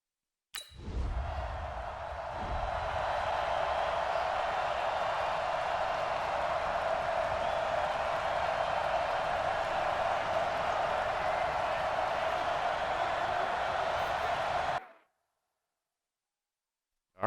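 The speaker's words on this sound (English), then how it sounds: "The crowd is loud as heck." Loud, steady stadium crowd roar from the Madden NFL 20 football video game, a dense wall of cheering that runs without a break for about fourteen seconds and then cuts off abruptly.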